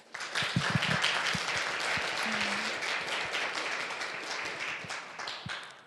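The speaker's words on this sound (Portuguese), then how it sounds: "Aplauda Jesus." A congregation claps together at a church service, a steady, moderately loud round of applause that fades slightly toward the end, with no speech over it.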